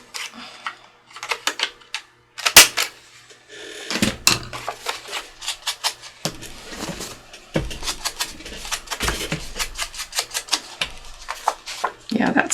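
Paper is cut for a mixed media spring journal cover topper, with sharp crisp snips and clicks at irregular moments among rustling handling noises while a person talks over them.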